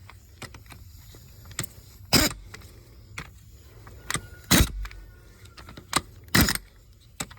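Ring gear bolts on a Ford Mustang 8.8 differential being drawn down in a crisscross pattern: scattered close metallic clicks and clinks, with three louder, sharper bursts of tool noise and no talking.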